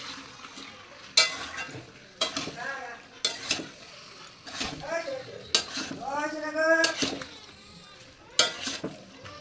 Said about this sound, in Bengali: এবার মাংসটা আস্তে আস্তে পুরো মশলাটাকে মাখাতে হবে।